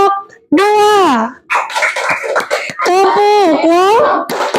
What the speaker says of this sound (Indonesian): beri tepuk wow untuk kelompok 2